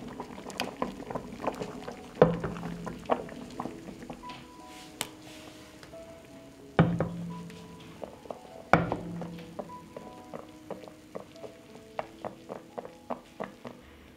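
Glass jars simmer in a pot of boiling water, with steady bubbling and soft patter punctuated by occasional knocks and rattles of the jars against the pot, close and moderately loud.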